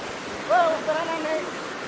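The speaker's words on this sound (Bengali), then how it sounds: "এই ঝর্ণাটাকে দেখার জন্য খুব এক্সাইটেড ছিলাম" A waterfall in a hill-country Mro village pours into a stream feeding the Matamuhuri river, giving a steady close rushing roar throughout, with a brief high whistling tone rising above it near the middle.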